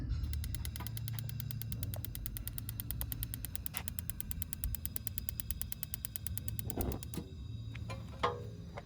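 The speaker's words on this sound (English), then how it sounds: "Turn the gas on, and the igniter has an electric ignition here." Electric igniter on the propane cooktop of a 2014 Mercedes Sprinter campervan, a rapid, even train of small sharp clicks repeating close by for several seconds over a low electrical hum, then stopping, with no talking.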